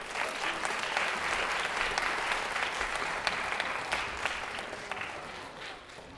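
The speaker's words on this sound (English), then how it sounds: "Let's give her applause" A concert audience at a Peter and the Wolf performance breaks into sustained applause, many hands clapping in a continuous dense wash with a few sharper nearby claps, fading slightly toward the end.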